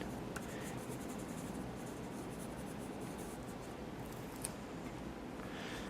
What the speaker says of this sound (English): I'm just kind of taking my pencil and kind of making marks with it.